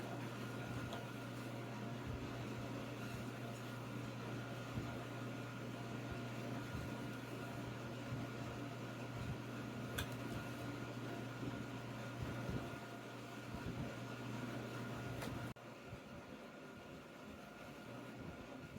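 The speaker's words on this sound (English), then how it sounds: "apologize if you hear a humming noise in the background" A portable air conditioning unit hums steadily in a woodworking workshop, a faint constant drone running the whole time with small clicks and knocks, and a slight drop in level near the end.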